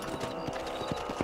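Horse hooves clip-clopping in the Red Dead Redemption video game, a quick, steady rhythm of hoof strikes at moderate volume, with no talk.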